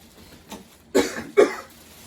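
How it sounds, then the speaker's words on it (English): Two sharp coughs close to the mic, about half a second apart, preceded by a softer breathy sound, with quiet in between. "so it just caused me to cough"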